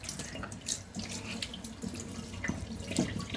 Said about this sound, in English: I'm washing Katie's hair